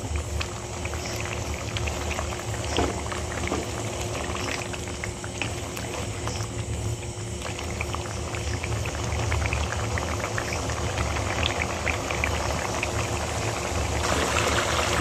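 Dhaba-style egg korma with boiled eggs simmering in a pan over low heat, a steady soft bubbling and hiss running evenly throughout, nearby and moderately loud.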